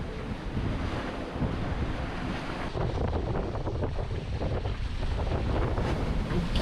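Wind at sea aboard a sailboat in shifty, gusty conditions, a steady roar of wind buffeting the microphone over rushing water, loud and continuous, with no talk.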